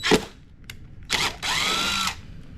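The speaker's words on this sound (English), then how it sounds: "So I've got my drill." Power drill loosening mounting screws on a Ms. Pacman arcade machine, a short opening buzz followed by a sustained whirring run of about a second, close and clear with no talking.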